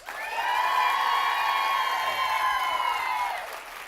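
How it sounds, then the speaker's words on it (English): A live show audience cheers and applauds a guest, a loud swell of whooping voices and clapping that holds steady for a few seconds and then fades slightly. "would you please give a huge round of applause to Mr. Barry Williams"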